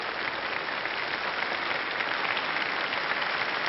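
A studio audience at a French television show applauds in a steady, even wash of clapping that is moderately loud and continuous, with no voices over it.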